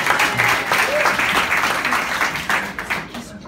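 An audience bursts into loud, dense applause, sustained for a few seconds before thinning out and fading toward the end.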